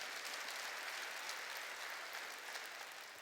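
Church congregation applauding during a Korean sermon, a steady, dense wash of clapping that holds evenly throughout, fairly distant and soft, with no voices on top.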